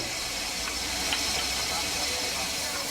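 A steam locomotive uncoupled at the end of the line gives off a steady, loud hiss of steam that holds evenly throughout.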